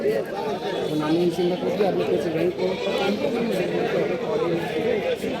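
Goats bleat at a Dhaka goat farm where an eight-tooth goat is being examined for sale, their calls blending into steady close chatter from several people talking throughout.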